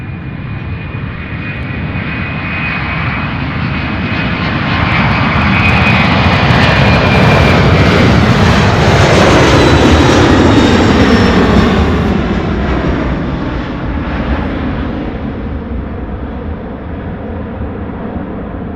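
Airliner on a straight-in approach to Louisville International Airport, its engine roar swelling steadily as it passes close overhead, then slowly fading with a faint whine; continuous and loud, no voices.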